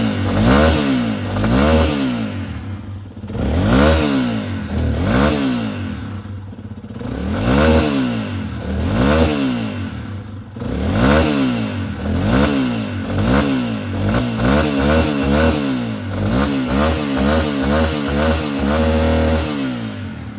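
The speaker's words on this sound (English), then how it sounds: "I'll let it warm up a little bit, then I can start revving it." A 2021 Yamaha XT250 motorcycle engine revs repeatedly, rising and falling in pitch with a steady rhythm, loud and close, quickening toward the end; no voices.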